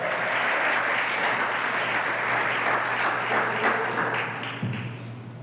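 A church congregation at a seminar breaks into sustained applause, a dense, even roar of many hands clapping together for several seconds before tapering slightly near the end.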